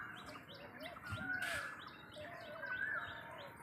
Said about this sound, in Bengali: এই মাক্সি বড় কবুতরটি ব্যতীত বাকি সব আমার ঘরের বাচ্চা।